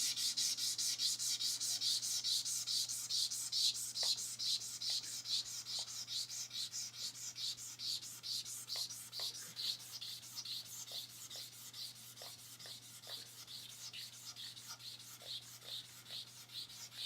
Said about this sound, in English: because you're letting the sandpaper do all the work, you're going to feel a difference in your sanding